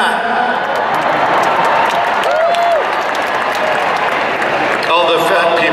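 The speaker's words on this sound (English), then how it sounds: "All the fat people are applauding." A large crusade crowd applauds a joke, loud sustained clapping mixed with cheers and whoops, a voice calling out above it midway and another near the end.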